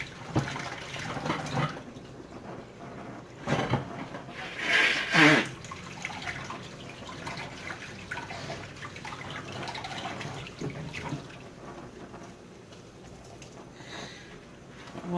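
Parsley and cilantro are rinsed under a running kitchen tap, a close rush of water with splashing bursts as the bunch is moved through the stream, then a quieter steady trickle.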